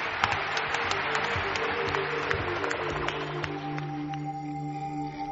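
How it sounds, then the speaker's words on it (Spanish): A studio audience on a late-night Spanish radio program applauds Mariano with dense, steady clapping that holds for several seconds, then thins out and fades near the end. "Mariano, nuestro aplauso."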